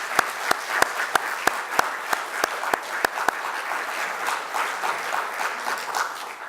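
An audience applauds, beginning with a few sharp, evenly spaced claps that soon blend into a steady wash of clapping.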